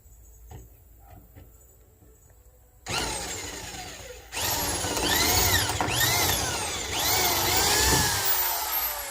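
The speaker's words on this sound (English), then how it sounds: "Get a space for that drill bit to go, and then just start drilling." A power tool whirs continuously and close by, rising and falling in pitch with repeated whining sweeps, after a quieter start.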